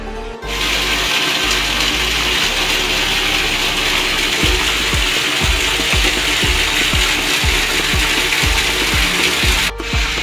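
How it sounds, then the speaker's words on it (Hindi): A small tubewell pump runs in a garden of flowering plants and large trees in Shahpur, Sargodha, watering the trees: a loud, steady close-up mechanical whir with a rapid rhythmic knocking running through it. "यहाँ पे एक छोटा सा ट्यूबवेल भी लगाया हुआ है जो कि हर दरख्त को अपने एक मखसूस तरीके से पानी फराहम कर रहा है"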